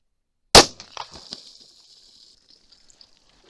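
A single 10mm pistol shot fires Underwood 140gr Xtreme Penetrator rounds into water jugs. One loud, sharp crack is followed by brief splashing and spattering that fades over a couple of seconds.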